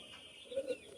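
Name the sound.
pigeon cooing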